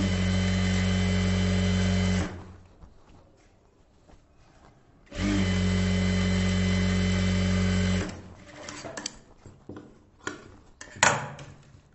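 A sewing machine stitches a blouse lining in two loud, steady runs of motor drone, each a few seconds long, separated by a pause with faint handling noises, followed by scattered rustles and clicks of fabric being moved.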